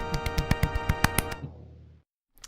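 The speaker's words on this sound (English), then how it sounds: "That's the sound of a golf clap." A game sound of a golf clap from Legend of Zelda: A Link to the Past: a quick run of about ten sharp, even, light claps that fade with a ringing tail, then a brief noise at the end.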